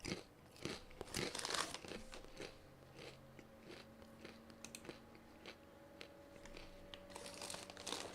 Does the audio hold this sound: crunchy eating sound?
yes